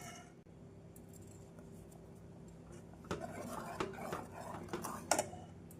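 Spoon scraping and clacking against a pot while thick finger millet porridge (kambu koozh) is stirred as it thickens, a series of irregular light metallic knocks over a low steady background hum.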